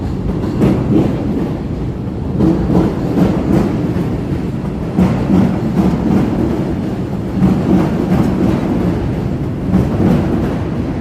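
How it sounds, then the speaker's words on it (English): Train crossing a bridge over the Chicago River, a steady loud rumble with periodic clacking of wheels over rail joints, no voices. "here's the train heading across here"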